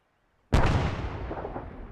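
A frag grenade blast in the video game Antistasi, a single sudden loud boom after brief silence, followed by a long rumbling decay that fades slowly.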